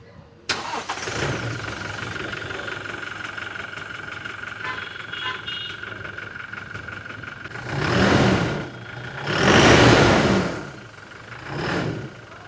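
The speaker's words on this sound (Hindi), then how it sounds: "चलो अच्छा, पहले इंजन की साउंड सुन लेते हैं" Diesel engine of a Toyota Fortuner Legender automatic 4x2 idles steadily, then three bursts of revving swell and fade, with the second rev the loudest.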